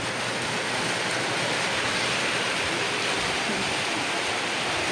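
Steady, dense hiss of heavy rain falling continuously, broadband and unbroken, with no voices.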